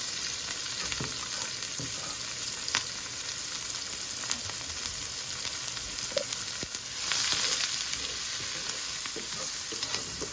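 Potatoes frying in olive oil in a hot pan, a steady dense crackling sizzle held close and loud for the whole stretch, swelling briefly in intensity partway through, with a few faint utensil taps and no speech.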